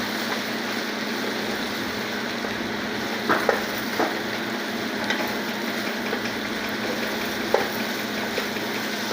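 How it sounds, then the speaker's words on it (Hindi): Okra (bhindi) sizzles steadily in a hot pan for dhaba-style bhindi, a constant frying hiss with a few faint clicks and no talking. "भिंडी को अच्छे से फ्राई कर लें। अच्छे से फ्राई करना है भिंडी को।"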